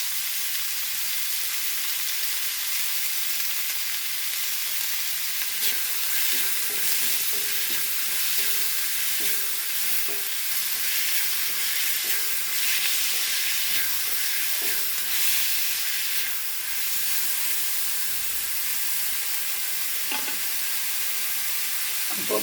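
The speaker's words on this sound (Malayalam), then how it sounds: "ഇനി നമുക്കിതിനെ ഒന്ന് വഴറ്റി നല്ല ഒന്ന് മൂപ്പിച്ചെടുക്കണം." Onions and grated coconut sauté in a hot pan with a steady, dense sizzle, with occasional light scrapes and stirring knocks over the continuous frying hiss.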